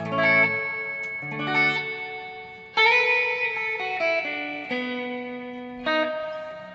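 Electric guitar notes and chords ring out through a BOSS reverb pedal, each struck note sustaining with a long shimmering decay tail, played in several separate phrases.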